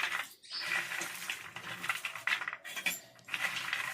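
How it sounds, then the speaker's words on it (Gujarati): Roasted peanuts rubbed by hand to loosen their papery husks, a dry crackly rustle with small rattling of nuts, continuous with brief pauses, close and fairly quiet. "હવે આપણે માંડવી ઠંડી થઈ ગઈ છે તો તેમાંથી હાથની મદદથી ફોતરા કાઢી નાખશું"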